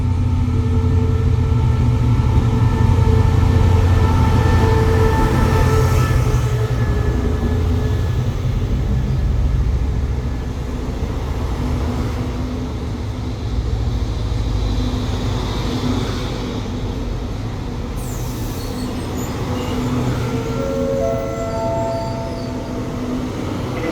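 Thai special express train 32 rolls into Ban Pong station, a loud sustained rumble of wheels and engine with steady rail clatter and droning tones, slowly easing as it arrives.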